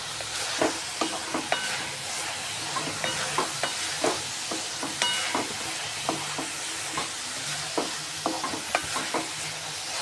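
A spoon stirs a thick, sweet cardamom-flavoured mixture in a pan after the heat is off, scraping in a steady run of close clicks and scrapes over a soft hiss, with no voices.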